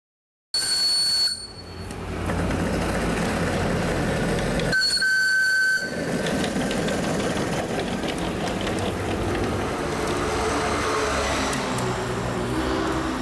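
A handmade miniature steam train runs along its track, giving a sharp whistle near the start and again midway, with rolling, rattling running noise continuing steadily between and after the blasts.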